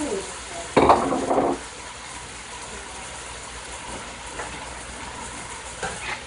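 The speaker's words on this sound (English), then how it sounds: "I'm not gonna let this go too long in the oil" Big shrimp drop into hot oil with a brief loud burst of sizzling, then a low steady fry continues with faint scraping of a utensil.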